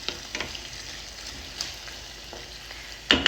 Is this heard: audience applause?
no